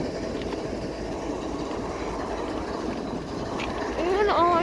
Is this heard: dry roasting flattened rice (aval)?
no